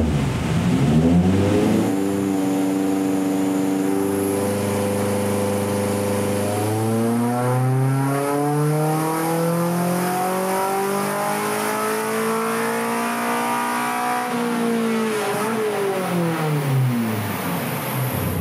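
A Honda K24 engine with individual throttle bodies, fitted in a Mazda 121, revs at half throttle, climbing in loud sweeping pulls and falling back several times. The sound is close and continuous, with no voices.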